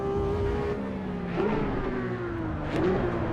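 In the racing game Assetto Corsa Evo, a race car engine revs high, then drops pitch with quick downshift blips, each followed by a rising whine, heard loud and close throughout.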